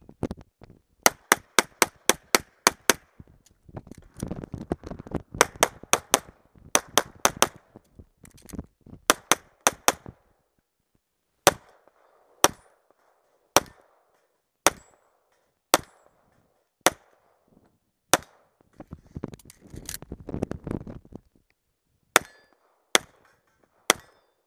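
Pistol gunshots on an IPSC shooting match stage, fired in fast clusters of sharp cracks and then in slower, evenly spaced single shots, loud and close with a few brief pauses.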